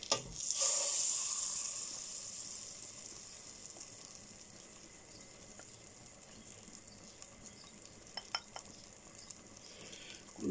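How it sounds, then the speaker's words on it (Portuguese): Butter melts in a pan before rice is cooked, giving a soft, steady sizzle and hiss that fades slightly after the first couple of seconds, with a few faint clinks near the end. "e deixar a manteiga aqui derreter na panela"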